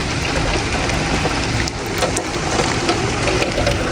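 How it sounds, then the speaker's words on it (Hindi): Dense, loud rain pours down in a constant hiss with scattered heavier drops pattering nearby, no voices. "बहुत तेज़ बारिश हो रही है।"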